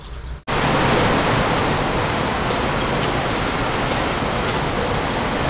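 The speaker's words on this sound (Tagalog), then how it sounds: "Yun o, umuulan." Steady rain pours down without a break, starting suddenly after a brief quiet moment and then hissing evenly and loudly with no voices.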